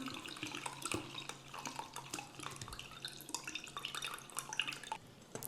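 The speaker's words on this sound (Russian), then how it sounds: "И заливаем соком наши сухофрукты" Juice poured over dried fruit during Easter baking in a kitchen, a faint trickling, dripping liquid sound with small clinks, steady and close but quiet.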